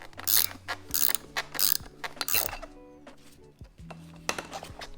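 Ratchet fitted with a 1/4-inch socket loosening a strut nut, giving several bursts of fast metallic clicking with brief pauses between them, close and clear, with faint ringing metal tones underneath.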